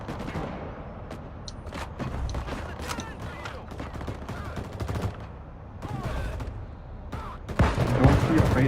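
Video game gunfire crackles in scattered bursts of sharp shots, some rapid fusillades, near and moderately loud, growing heavier toward the end, with a voice talking in between.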